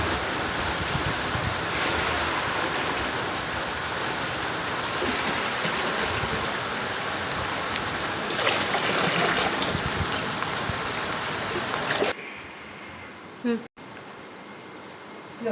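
Heavy monsoon rain pours steadily outdoors in Gujarat, a dense, loud hiss of falling water and runoff that cuts off abruptly into a quieter, softer wash, with voices faintly audible.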